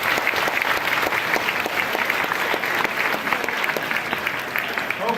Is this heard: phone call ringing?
no